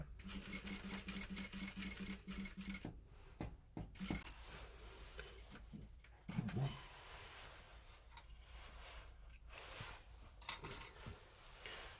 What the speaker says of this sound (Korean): 재봉을 해 주십니다.